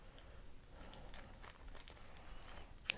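A plastic pack of Baseball Legends stamp cards being cut open, giving a soft, quiet crinkling and rustling of plastic close by with a small sharp snip near the end.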